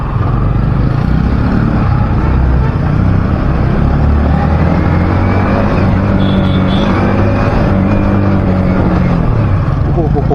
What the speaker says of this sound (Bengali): বুঝতেই পারছো গাইস, বাইক চালাচ্ছি